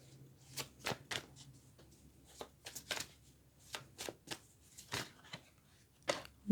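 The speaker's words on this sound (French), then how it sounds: "Trop de cartes." A deck of tarot cards being shuffled close by, a quiet series of irregular soft flicks and riffles with short gaps between them.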